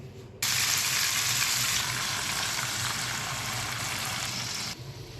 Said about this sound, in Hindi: अब मैं इसको जो है ना ऑयल में करने लगी हूँ फ्राई।